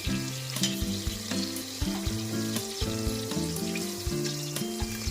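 Ghee sizzles in a pan for garlic rice, a dense, crackling hiss that runs steadily throughout with light stirring, close up and with no speech.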